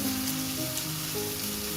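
Chicken steaks sizzle steadily in a pan over a low flame, a soft, continuous frying hiss heard close up with no talking.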